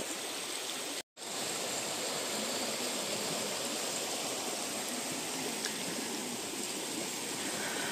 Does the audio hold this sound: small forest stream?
yes